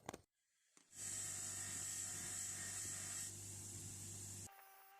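A fibre grinding wheel works a lump off a rare Barcalloy Garrington 4-inch spanner, spinning up after a short clatter into a loud, steady whine with a strong low hum, then cutting out near the end.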